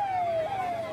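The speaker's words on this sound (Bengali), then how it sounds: "ওই জন্য ট্রাফিকরা রাস্তা দিয়ে পার করে নিয়ে যাচ্ছিল, আগে ছেড়ে দিল অ্যাম্বুলেন্সটা" An ambulance siren sounding through crowded festival traffic, a single steady electronic tone gliding slightly downward, clear and fairly close over a low road hum, with no talking.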